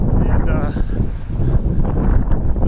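Cold, gusty wind on a mountain hike to Grandeur Peak buffets the microphone with a continuous low rumble, while someone talks over it.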